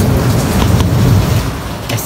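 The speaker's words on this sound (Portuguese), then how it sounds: "chovendo muito forte" Heavy rain pours with low rumbling thunder in a storm, a loud, dense roar close by with the deep rumble swelling through the middle and no voices.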